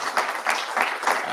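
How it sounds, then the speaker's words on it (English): An audience at an agricultural technology forum in Nairobi claps for the presenters. Four evenly spaced claps are heard up close in a short, steady rhythm. "can we give a clap for the presenters?"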